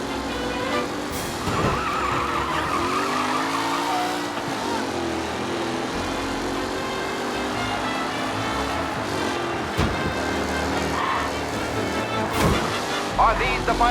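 Race cars roar and skid on a track in Mafia Definitive Edition, engines droning loudly with pitch swells and sharp tire squeals and impacts breaking through, a commentator-style voice faintly mixed in.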